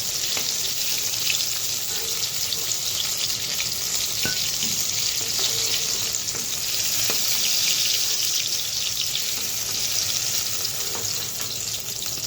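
Ridge gourd fritters fry in hot oil, a steady loud bubbling hiss that runs unbroken throughout, with occasional faint clicks from a utensil and no one speaking.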